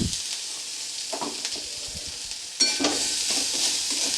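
Grated carrot and ginger paste with potato spice mix being stirred in a sizzling pan, a steady frying hiss with scraping spoon strokes that grow louder and busier in the second half; no talk.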